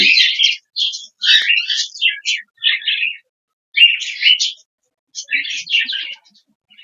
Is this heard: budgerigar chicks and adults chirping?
yes